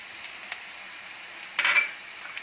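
Okra and gram flour stirred in a frying pan on low heat, a faint steady sizzle with a brief scraping burst of the spoon near the end, no voices.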